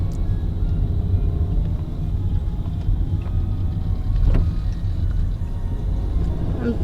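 A car on a test drive after suspension work, its steady low engine and road rumble heard from inside the cabin with a few faint knocks and creaks.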